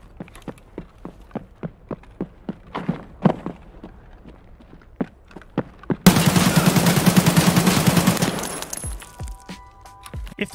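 Escape from Tarkov gunfire: a string of sharp single shots and footsteps-like cracks, then a loud sustained burst of automatic fire lasting about two seconds before dropping off into quiet.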